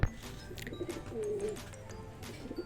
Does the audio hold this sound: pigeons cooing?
yes